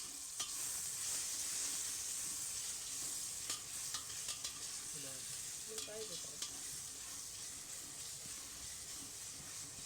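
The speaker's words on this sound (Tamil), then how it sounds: "கருவேப்பிலையும் புதினா இலையும் அதோடு சேர்த்து விட்டு அதையும் கொஞ்சம் இப்படி லைட்டாக வணக்கி விடுங்க" Curry leaves and mint leaves sauté in a hot pan, giving a steady, close sizzle with occasional scraping and stirring clicks from a utensil throughout.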